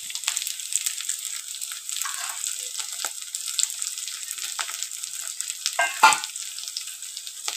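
Ground red chilli, Kashmiri chilli and turmeric hit a hot pan and sizzle in a bright, continuous frying hiss, with occasional stirring scrapes and a louder burst near the end.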